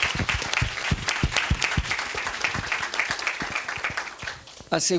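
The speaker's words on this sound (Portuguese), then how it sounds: "eu gostaria de solicitar uma salva de palmas" A crowd applauds steadily, a dense patter of many hands clapping that continues for several seconds.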